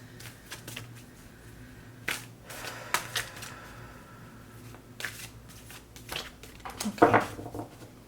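An oracle card deck is shuffled by hand in short, crisp riffles and taps, several bursts spaced a few seconds apart, close and fairly quiet with no voices.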